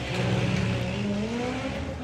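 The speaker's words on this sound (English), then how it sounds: "You can hear the tyre chatter, the front-wheel drive car screaming away." A front-wheel drive drag racing car at a drag strip accelerates hard down the track, its loud engine note climbing steadily with tyre chatter, close and continuous.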